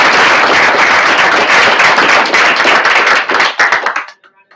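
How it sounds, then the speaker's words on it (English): Audience at a tech meetup on Angular 2 and TypeScript applauds, dense close clapping filling the room for about four seconds before thinning out to a few scattered final claps. "Well-deserved applause."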